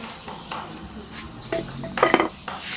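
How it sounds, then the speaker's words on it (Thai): Fried rice stir-fried in a pan produces a quick run of scraping and metallic clinks as a utensil strikes and drags across the pan, close up and moderately loud. "ผัดเลยครับผัดปุ๊บเลย"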